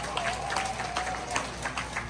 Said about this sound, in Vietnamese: Một tràng pháo tay thật lớn cho MC Quan Việt Trần Phạm.